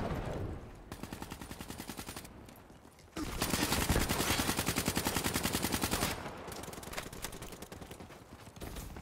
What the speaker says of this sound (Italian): Chi è che spara?